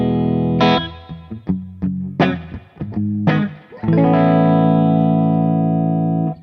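An electric guitar played through an AmS Revenge 50 amplifier with reverb mixed in, a few ringing distorted chords with rhythmic stabs and then one long sustained chord, loud and close.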